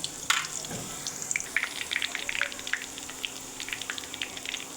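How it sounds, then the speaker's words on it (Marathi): Garlic dropped into hot oil for a Marathi Bhogi vegetable dish sizzles and spits steadily, with soft crackles and pops scattered across a continuous frying hiss, close and moderately loud, no talking. "हे तेल मस्तपैकी गरम झालेलं आहे। लसण टाकून घेऊ।"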